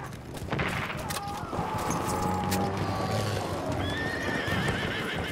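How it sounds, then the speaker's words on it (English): A horse neighs and whinnies in a World War I battlefield video game, with hoofbeats clopping under a steady wash of distant gunfire and battle noise. "Horse!"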